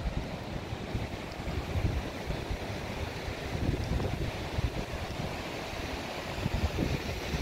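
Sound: strong wind and waves breaking during Baltic Sea storm surge

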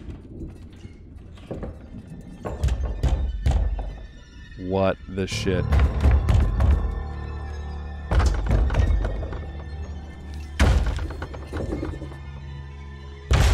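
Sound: banging on a cellar door, from a video game

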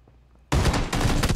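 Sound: AK rifle gunfire in PUBG video game

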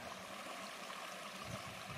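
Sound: river water flowing

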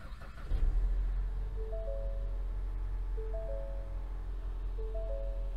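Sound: Ford Mustang 2.3L EcoBoost engine starting and running

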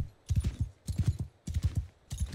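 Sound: horse galloping hooves in Bannerlord video game

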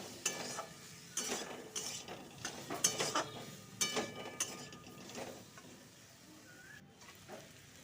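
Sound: sautéing spice paste with tomato, ginger, chilli for ghugni

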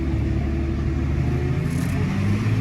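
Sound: New Holland 6050 tractor driving a lap

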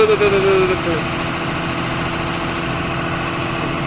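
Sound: engine being revved

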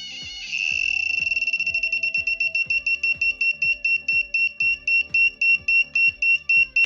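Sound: 5V active piezo buzzer sounding

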